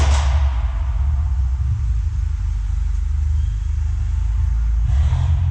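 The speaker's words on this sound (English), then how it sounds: "That A45 is loud" A loud Mercedes A45 engine rumbles steadily and close by, its deep low-end drone holding throughout with a slight rise near the end.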